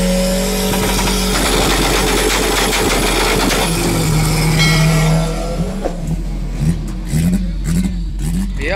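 A Chevette drag racing car accelerating at Interlagos, a loud engine roar building and holding before rising gear-change sweeps near the end, with crowd and track noise around it.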